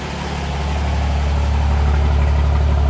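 First-generation diesel truck engine with new 5x16 injectors idling, a loud, close, steady low rumble with an even knocking rhythm that builds slightly at the start and then holds, with no voices.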